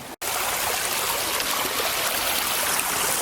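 Water trickles and burbles steadily in a small backyard stream feeding a shallow wading pool, a close, even hiss of flowing water with no voices after a brief cut at the start.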